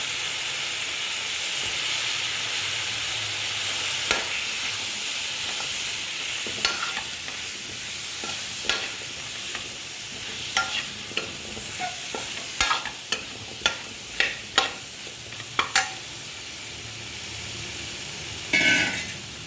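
Four medium potatoes in large chunks go into a sizzling beef curry, followed by a run of sharp spoon-against-pot clacks and scraping stirs over a steady steamy hiss.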